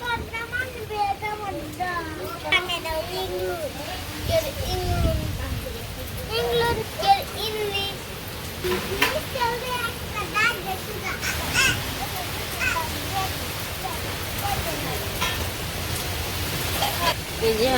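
Steady rain falls during a day of storms and wind, a dense even hiss running throughout, with children's voices and chatter weaving over it close by.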